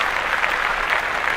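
Brief burst of dense audience applause, a steady rush of many clapping hands with no voices on top.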